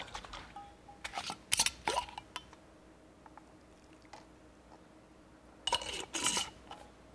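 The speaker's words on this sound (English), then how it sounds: "I like to use little jars like this to make vinaigrettes, because all you need to do is shake it up" A small glass jar of vinaigrette is shaken, giving two bursts of rattling, sloshing clatter, the first around the start and the second near the end, close and fairly loud with quiet between and no talking.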